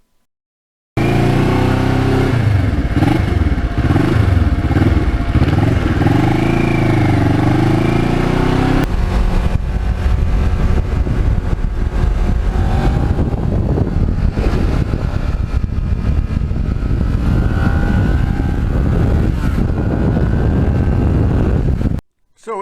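A Ninja sport bike rides on an open tree-lined road, its loud engine rising and falling through gear changes early on, then settling into a steady roar with heavy wind rush throughout.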